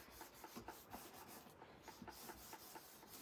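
Acetate window pieces for a shaker card are rubbed together in quick, rhythmic, faint scratchy strokes, close up and alone.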